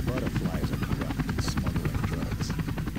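Helicopter rotor chopping steadily and loudly throughout a Hitman: Codename 47 cutscene set on a Colombia mission, a rhythmic thudding beat with a deep engine drone, with voices speaking over it.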